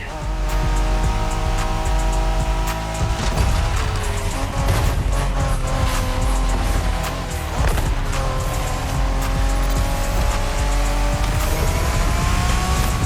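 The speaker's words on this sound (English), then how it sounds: "We're going for some proper Japanese street racing" Street race cars in the video game The Crew Motorfest, engines roaring loudly and continuously with rising revs, gear shifts and squealing tires close up.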